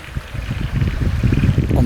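Creek water runs close by through rivulets over exposed bedrock among blackberries at the head of the Winburndale, a loud low rushing gurgle with some wind buffeting the microphone.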